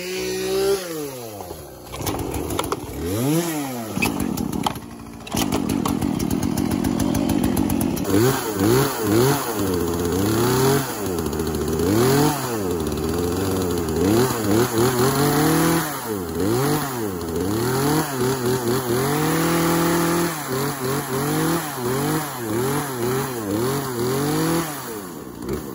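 Chainsaw fired back up outdoors for cutting pine tree limbs during yard waste cleanup, sputtering at first then running loud and close with repeated revving swells and drops in pitch, no talk.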